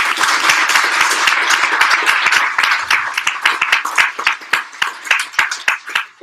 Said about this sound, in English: let's give Shay a round of applause.